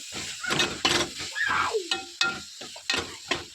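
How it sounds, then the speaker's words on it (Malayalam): Tomato, garlic and spices being sautéed in a pan while making chicken sukka: spatula scrapes and clinks come in bursts over a light sizzle, close and fairly loud, with no speech. "എന്നിട്ട് അതിലേക്ക് തക്കാളി ചേർത്ത് നന്നായിട്ട് വഴറ്റണം."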